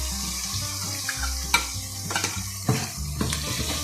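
Ground onion masala paste for kofta curry fries and sizzles in a pan, with a spoon stirring and scraping now and then, close and fairly loud.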